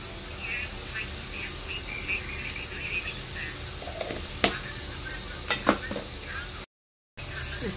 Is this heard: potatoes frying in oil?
yes